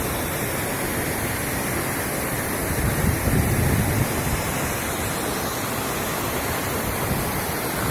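Waterfall on the Fanes river in the Dolomites, a steady broadband roar of rushing water that stays constant throughout, close and fairly loud with no speech over it.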